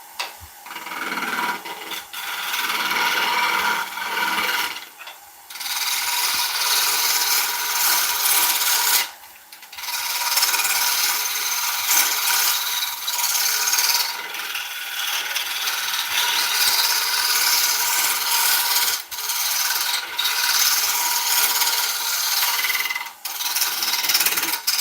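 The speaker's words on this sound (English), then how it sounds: "I'm going to try and scrape that raised area there" A 1/4 inch bowl gouge scrapes a raised area on an oak platter spinning on a lathe. The steady, rough rasping runs almost continuously and close, with brief breaks near the fifth and ninth seconds.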